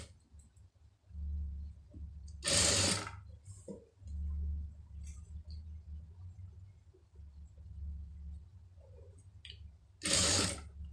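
A tailor's sewing machine stitches a round blouse neckline in several short, low-humming runs with mechanical ticks between them, and two sharp rustling bursts of cloth handling break in, all fairly quiet.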